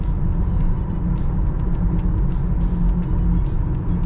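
A Hyundai Genesis G80 four-wheel-drive car drives by close and loud, with a steady broadband roar of engine and tyre noise that holds throughout.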